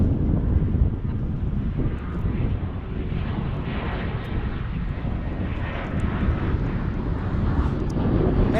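A United Airbus airliner inbound at DFW airport, its engines producing a steady, loud broadband roar that holds throughout with mild wind buffeting and no talk.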